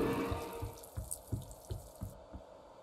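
Liquid being poured in the horror video game Mother, heard as a run of about seven evenly spaced, soft dripping splashes over a faint background, with no talk.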